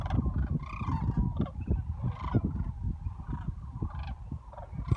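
A dense, continuous chorus of bird calls from a large flock of cranes, geese, snow geese, swans and ducks, honking and trumpeting, steady and loud without any talking.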